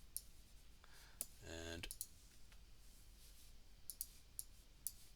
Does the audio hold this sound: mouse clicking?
yes